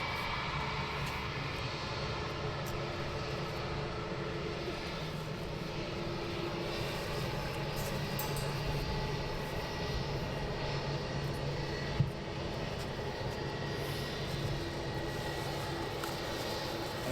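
Aircraft engine hum as a plane taxis past at London Luton Airport, a faint, steady broadband roar heard from a distance, continuous and even with a single brief click midway.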